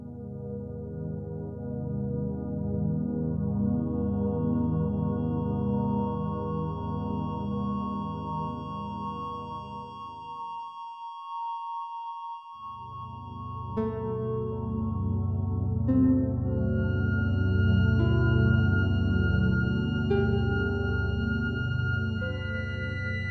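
A piece of music composed in the Bohlen-Pierce scale, with 13 even divisions of the 3-to-1 ratio, plays with full sustained harmonic chords, briefly thinning to a quiet bridge midway before swelling again, with no voices.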